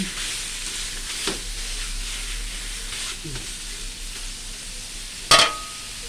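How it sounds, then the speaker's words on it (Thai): Pork stir-fries with curry paste in a pan, making a low sizzle broken by a few stirring scrapes and one sharp, loud clatter near the end. "ยายก็จะใส่หมูนะใส่หมูลงไป ข่หมูผัดไปกับพริกแกง"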